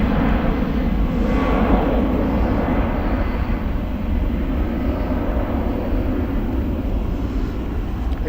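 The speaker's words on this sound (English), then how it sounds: "China Eastern, you can see, is taxiing." A China Eastern airliner taxis at Gatwick Airport, its engines giving a steady, continuous roar heard from a distance with no breaks or talk.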